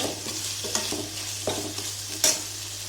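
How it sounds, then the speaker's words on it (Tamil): Onions and pigeon meat sauté in a pan with a soft continuous sizzle, interrupted by several scraping stirs of a spatula, close and moderately quiet with no talking. "நல்லா குழஞ்சி வேகிற அளவுக்கு நம்ம வந்து இதை வதக்கிடுறது தான் நல்லது"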